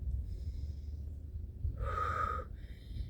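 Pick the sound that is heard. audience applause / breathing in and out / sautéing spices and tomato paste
breathing in and out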